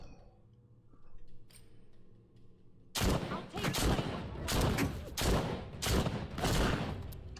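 Rapid bursts of gunfire from The Walking Dead: Saints & Sinners Retribution, a zombie VR game set in a school, start abruptly after a quiet stretch and repeat in loud, close volleys with short gaps.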